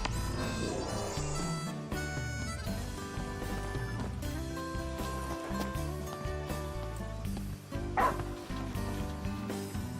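Umbra the dog in Final Fantasy XV yipping and barking in short bursts, mixed in with music and faint voices.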